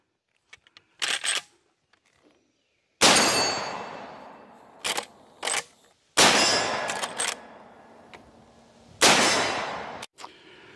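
A 1958 Marlin Model 336 lever-action rifle fires several sharp, loud shots with lingering ringing decays, separated by quieter clicks and clacks of the lever action between shots.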